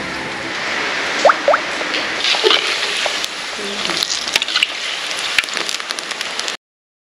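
Steady rain falls outside a village kitchen set up in the open, where pakoras are frying in hot oil, a continuous broadband hiss with scattered sharper drips and crackles throughout.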